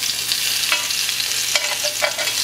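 Onions hit a hot pan alongside nopales cactus paddles and fry with a steady close sizzle, broken by a few spatula clinks and stirring scrapes, with no voices.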